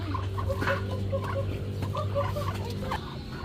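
Ducks at a farm zoo in Mendez, Cavite, giving short, repeated nasal calls over a constant low background hum, with no talking.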